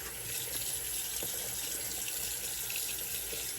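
Tap water runs steadily into a sink as a face is rinsed after shaving, a constant close splashing rush with no talk.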